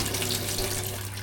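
Water runs and drains steadily from washed squid in a kitchen sink, a constant close splashing flow with a low hum underneath.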